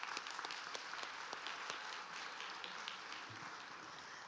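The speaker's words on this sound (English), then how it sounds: "let's give a round of applause for Jennifer." A school board meeting audience gives a round of applause for a teacher, the clapping fairly faint but continuous, with a few sharper individual claps standing out.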